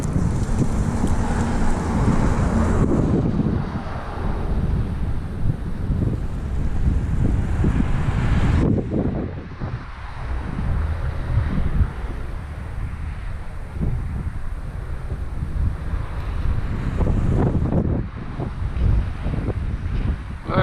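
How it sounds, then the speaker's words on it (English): Strong, gusty wind buffets the microphone while someone walks outdoors in Dallas, a loud, rough low rumble that surges and dips, briefly easing midway before building again, with no talking. "That wind is really punishing."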